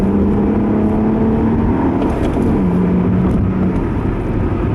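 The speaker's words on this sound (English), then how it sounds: "You can hear the exhaust" A 2010 Acura TL SH-AWD manual's exhaust hums loud and close as the engine note holds, dips and shifts pitch through a quick corner, with steady road noise underneath.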